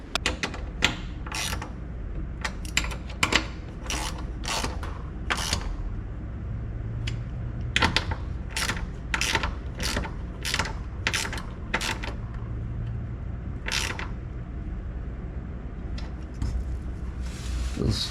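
A ratchet wrench tightens running board bolts on a 2005 Nissan Titan, giving close, rapid clicking bursts in uneven runs over a low background rumble, with no talking.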